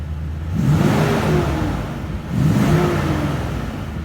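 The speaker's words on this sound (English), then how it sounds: "I'll go ahead and rev it up. Take a listen." A 2021 Toyota Tundra Lunar Rock engine revs twice, each rise swelling loud and close before falling back, with no talking.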